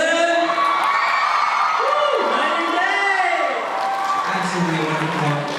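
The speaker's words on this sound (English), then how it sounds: "One more time, big round of applause." A crowd at a high school Hallyu showcase cheers, whoops and shouts loudly, a dense, continuous roar of excited voices.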